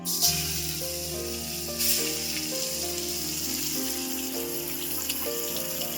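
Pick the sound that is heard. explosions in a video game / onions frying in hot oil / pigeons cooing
onions frying in hot oil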